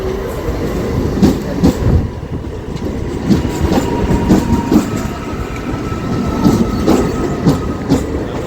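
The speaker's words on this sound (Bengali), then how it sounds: "আচ্ছা, এসে গেছে ট্রেন।" A train rolling into a station, loud and close, with heavy rumbling, rhythmic clickety-clack of wheels over rail joints and a faint squeal, steady throughout with no talk.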